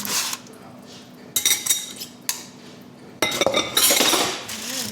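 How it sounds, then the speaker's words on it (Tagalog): Plates and cutlery being washed, with bursts of clinking and scraping dishes separated by short quieter pauses, close and moderately loud with no talk. "Ugas po tayo ng plato."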